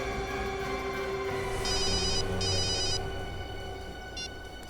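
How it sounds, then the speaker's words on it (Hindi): A telephone rings during an outgoing call, in short repeated electronic bursts of trilling tone heard over a steady background hum in a tense Indian crime drama scene. "मैं भी CID को फोन करता हूँ।"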